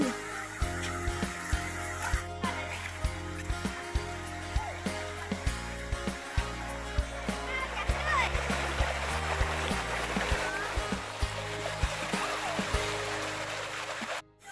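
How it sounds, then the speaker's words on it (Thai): Steady rushing water of a mountain stream flowing over rocks, fed by Ton Plio waterfall, with a low droning hum and scattered faint clicks mixed in throughout. "ก็ลำธารสายนี้นะครับ หรือลำลำคลองนี้นะครับ ก็มาจาก น้ำตกตนปลิวนะครับ"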